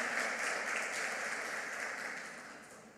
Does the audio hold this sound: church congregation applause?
yes